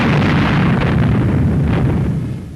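American artillery firing onto German soil at the frontier in a 1944 WWII newsreel, a loud sustained rumbling blast that slowly fades at the end.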